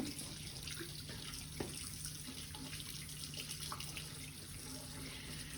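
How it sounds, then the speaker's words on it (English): Tap water runs steadily into a sink as hands are washed, a continuous even hiss and splash at close range with a faint steady hum underneath and no talking. "And then I'm gonna wash my hands for 20 seconds."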